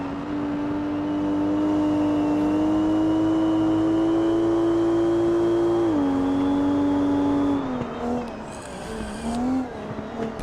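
A GT250 race car engine drones loudly and steadily on a racing circuit, pitch holding high then dropping in steps as it lifts off, with a brief tire squeal near the end.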